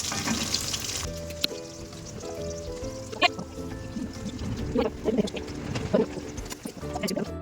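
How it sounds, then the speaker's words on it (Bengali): Fish frying in oil for a cauliflower fish curry, a sizzling hiss near at hand with scattered crackles and pops, accompanied by clicking kitchen clatter. "দেখো মাছ ভাজা প্রায় হয়ে গেছে"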